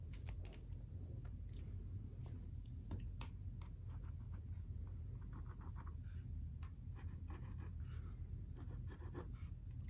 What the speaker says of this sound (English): I'm actually going to use a ballpoint pen and draw almost a dashed line all the way down to act as my plumb.